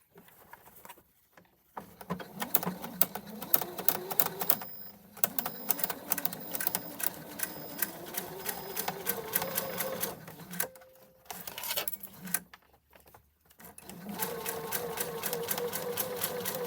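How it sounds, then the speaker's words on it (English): A sewing machine stitches a diagonal seam on fabric bunting in close, rapid bursts of mechanical clatter, stopping and restarting several times with brief pauses between runs. "So I'm just going to stitch along that line."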